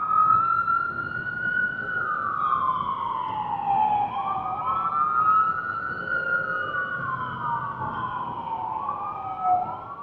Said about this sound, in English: as you can hear in the background, yes, they have sirens going up and down the street